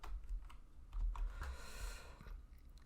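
Fingers type quickly on a computer keyboard while coding a web page, a steady close patter of light key clicks with no voices.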